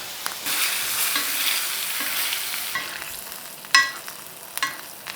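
Butter and garlic sizzle around a lion's mane mushroom steak as it is basted in a hot pan, a steady close frying hiss broken by sharp spoon clinks and splattering pops, with no voices.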